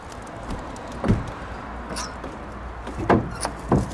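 An old abandoned Studebaker car in a junkyard gives a few scattered metallic clunks and thuds as someone tries to open its door.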